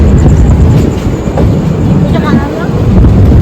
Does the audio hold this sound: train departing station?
yes